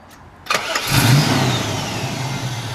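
A 1967 Chevrolet Camaro Rally Sport with a 425-horsepower crate roller motor cranks briefly, then fires and revs up loudly before settling into a rough, rumbling idle nearby.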